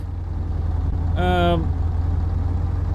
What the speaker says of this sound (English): It feels like an old truck. It's noisy like an old truck.